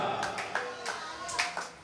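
Congregation in a church service clapping their hands, a quick irregular run of claps at moderate level with a voice faintly behind.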